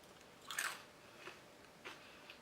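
Crunchy orange soy-sauce-flavored crescent crackers being bitten and chewed, with one louder crunch burst followed by a few softer, sparse chews, close and quiet with no talking.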